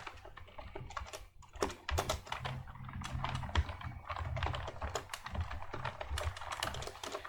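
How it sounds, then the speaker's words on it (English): Steady typing on a computer keyboard while writing HTML and CSS code for a responsive navigation bar, a dense run of close, crisp key clicks with irregular rhythm lasting throughout, heard alone without talk. "Let me type that out"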